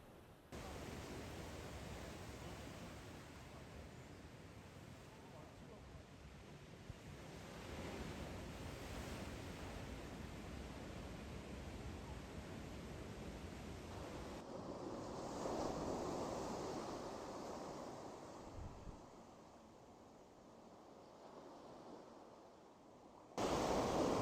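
Rough ocean waves crash in a steady, dense roar of surf with wind noise across the microphone, continuing without a break and swelling louder near the end; no one speaks.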